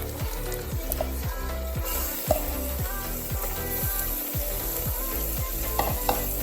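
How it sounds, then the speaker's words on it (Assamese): Chicken pieces hit a hot pan on a medium flame, setting off a steady, loud, close sizzle with rhythmic scraping of the pieces being moved about. "মাংসখিনি ইয়াত এটকৰাকৈ দিম"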